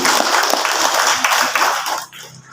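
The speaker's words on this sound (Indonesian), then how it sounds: "Tepuk tangan sekali untuk beliau." Audience applause for a speaker at an Islamic religious gathering, a dense broadband crackle of many hands clapping loudly and steadily for about two seconds before dropping off sharply.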